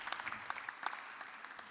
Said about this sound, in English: A round of applause for him as he leaves the stage.